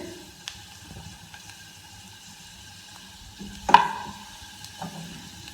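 Onions softening in a pan for a vegetable sandwich make a faint, low sizzle, broken by a sharp clink of a stirring utensil partway through.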